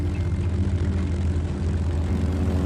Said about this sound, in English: The floats attached, and the Seiran launched into the air.